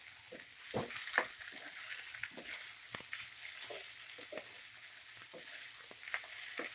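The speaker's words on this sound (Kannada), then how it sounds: "ಒಂದು 30 ಸೆಕೆಂಡು ಫ್ರೈ ಮಾಡ್ಕೊಳ್ಳಿ ಹಸಿ ಕಾಯಿ ಹಾಕಿದ್ಮೇಲೆ" Green beans palya with fresh grated coconut frying in a pan, giving a steady close sizzle broken by frequent scrapes and taps of a stirring spoon, with no voices.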